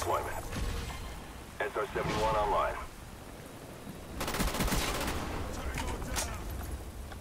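Gunfire in the video game Call of Duty Black Ops on the Kowloon map, heard as short bursts of automatic shots with a louder burst in the second half, mixed with other game effects and some talk.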